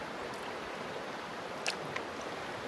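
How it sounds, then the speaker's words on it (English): A steady rushing of water flows continuously over small waterfalls and rapids in the Temagami wilderness, Ontario, with a couple of faint brief splashes. "Beautiful little waterfalls / rapids here."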